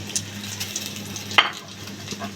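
Whole spices, crushed green cardamom, fennel seeds and two bay leaves, crackling in hot oil, a soft close sizzle with a few sharp pops and a light clink of a utensil.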